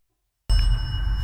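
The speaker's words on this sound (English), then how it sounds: "Can you tap the bell one more time?" A small bell is tapped once: a sudden bright ring that lingers briefly with steady metallic overtones over a low rumble of handling noise, after a moment of silence.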